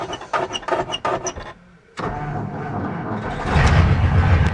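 An old carbureted engine running on a 15-year-old battery catches on a cold start after a few short cranking bursts and a brief pause, then settles into a steady, fairly loud rumble that grows slightly stronger.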